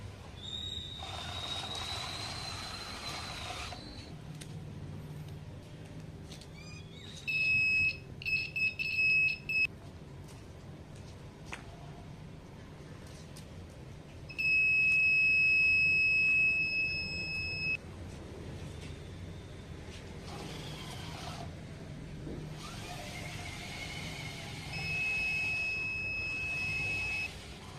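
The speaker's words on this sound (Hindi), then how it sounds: "तो ये जो बज़र है वो बजना स्टार्ट कर देता है। आप यहाँ पर सुन सकते हैं।" A buzzer on a security robot built as a school science exhibition project sounds in three separate bursts of steady, shrill electronic beeping, with quiet room background between them.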